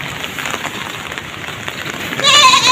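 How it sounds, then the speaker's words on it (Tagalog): Goats bleat in the rain near the sea, with a steady hiss of rainfall underneath and a short, louder bleat near the end, close to the listener, and faint talking in the background. "Ito yung mga kambing namin guys."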